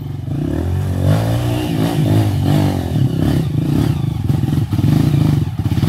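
A trail motorcycle of the CRF 230, KLX 450 or XR 200 type revs and accelerates hard on a dirt trail, loud and close with a rising, throbbing engine note and some clatter.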